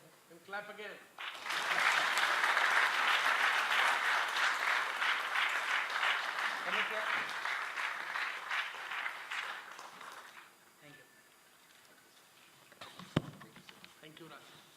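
Indoor audience at a book launch at the Nehru Memorial Museum & Library in New Delhi breaks into sustained applause after a brief voice, clapping steadily for about nine seconds before dying down into murmurs and a sharp knock.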